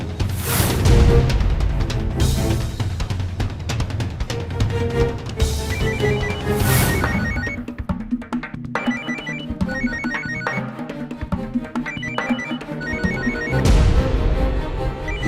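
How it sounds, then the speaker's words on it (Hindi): A mobile phone ringtone plays in a tense police stakeout scene with a target in a car, a melodic repeating ring that carries on loudly for the full stretch with no talk over it. "मोबाइल किसका बज रहा है?"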